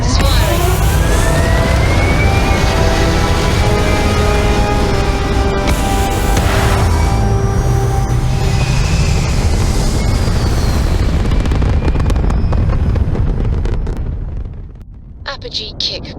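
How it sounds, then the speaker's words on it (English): Spaceship thrusters fire in the video game Starfield, a loud sustained roar with rising whining tones and rumble that gradually fades toward the end, with a voice speaking over it. "All thrusters firing."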